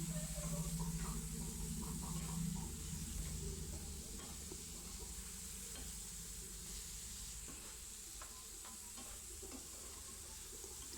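Soaked moong dal being stirred in hot oil in a pan, giving a soft, steady sizzle and hiss with faint scraping strokes, close but quiet, gradually settling.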